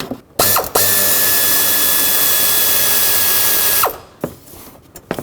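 A ratchet wrench with a 13mm socket on an extension clicks steadily as it works a bolt loose from a 2003-2021 Chevrolet Express radiator, a loud continuous run of fast ratcheting close by, stopping abruptly into a few softer clanks.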